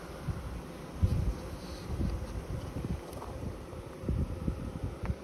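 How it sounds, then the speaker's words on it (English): Honeybees fill an open hive with a steady, dense buzz, close and continuous, with faint handling bumps and slight wind noise in the background. "there's a ton of bees in there"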